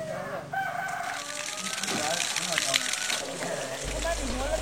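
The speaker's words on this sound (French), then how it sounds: "Réveil au chant du coq" A rooster crows at morning wake-up in a Lao village, its calls rising over busy background activity, water sounds and people talking.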